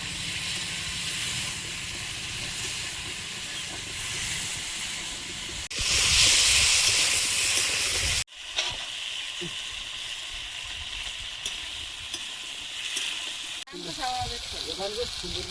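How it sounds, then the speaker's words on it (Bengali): Fish curry with nigella seeds, slit green chilli and potato sizzling in hot oil, a steady frying hiss that swells into a loud burst of sizzle midway, then settles back, with faint voices in the background. "মাছের তরকারিটা বসিয়ে দেবো। কালো জিরে, চেরা কাঁচা লঙ্কা, আলু,"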